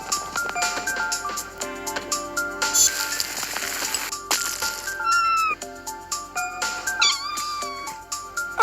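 A cat meows several times in short, rising calls over a busy background of ringing electronic tones.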